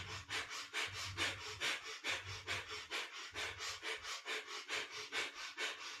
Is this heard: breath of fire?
yes